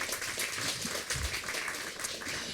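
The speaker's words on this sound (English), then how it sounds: "give them a big round of applause" An audience applauds at an annual meeting and holiday celebration, a steady wash of clapping that holds at a moderate, even level throughout.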